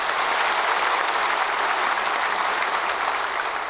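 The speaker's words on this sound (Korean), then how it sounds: "한번 박수 쳐주시기 바랍니다" Sustained applause from a church congregation during a Wednesday service, a dense, steady wash of many hands clapping at even loudness for the whole span, with no talk over it.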